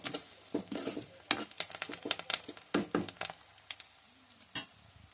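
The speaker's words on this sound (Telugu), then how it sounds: "మన ఉల్లిపాయలు బాగా వేగిపోయాయి." Onions frying with salt in a pan, stirred with a utensil that scrapes and knocks the pan in irregular close bursts over a light sizzle, with no clear speech.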